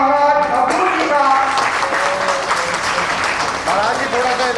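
Audience applause welcoming a swami during a Gau Ganga Raksha Yatra gathering: steady, dense clapping throughout, mixed with a voice and tonal sound over it.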